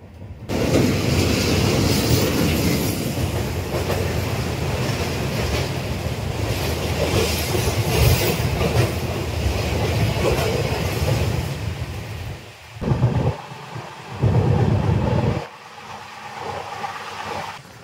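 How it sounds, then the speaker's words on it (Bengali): A train rumbles steadily across a rail bridge with loud, continuous low clatter, the sound briefly dipping and surging near the end as the carriages roll across. "এদিকে ট্রেন একটি রেল ব্রিজ অতিক্রম করবে"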